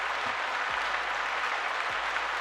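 Dense, steady applause played for a football player during a Dallas Cowboys talk show, a continuous wash of clapping with a few low thumps underneath.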